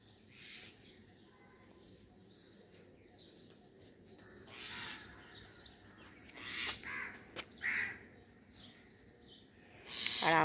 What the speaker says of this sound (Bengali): অনেক রকমের পাখি সকালবেলায় আওয়াজ, খুব ভালো লাগে